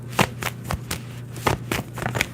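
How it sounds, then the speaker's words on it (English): Tarot cards are shuffled by hand in quick bursts of riffling and slapping, several close crisp strokes separated by short pauses over a low steady hum. "Let's shuffle."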